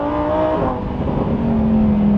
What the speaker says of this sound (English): This is a whole different car. It sounds so good.